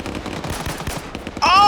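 Rapid gunfire bursts in a competitive shooter video game, dense rattling shots close and loud, ending in a bright, ringing tonal effect.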